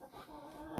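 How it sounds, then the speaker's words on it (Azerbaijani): Chickens clucking softly at a farmyard, a brief low murmur of hens with one slightly sharper note at the end. "Toyuqlardı."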